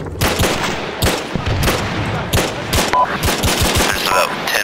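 Dense automatic gunfire and rapid shots in an Arma 3 co-op firefight, loud repeated bursts of bullets cracking nearly nonstop with no pauses, close and continuous throughout.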